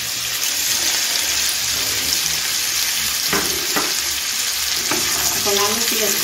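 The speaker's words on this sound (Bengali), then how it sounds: "পেঁয়াজ কুচি দিয়ে দিচ্ছি।" Chopped onion and potato sizzle and crackle in hot oil with mustard seed tempering, a steady loud frying hiss broken by a few close scraping stirs of the spatula.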